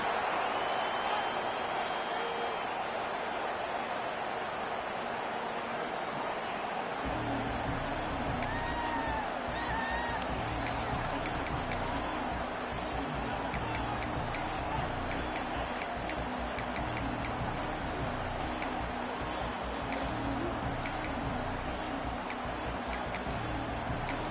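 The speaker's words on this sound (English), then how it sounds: "This crowd ready to make its presence known." Stadium crowd at an NCAA football game: a dense, steady roar fills the whole stretch, thickening after the first few seconds, with rhythmic thumping and scattered ticks layered over it.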